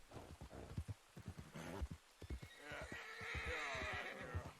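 In a video game, hooves clop in a quick, steady rhythm while a horse lets out a drawn-out, wavering whinny partway through, close and fairly clear.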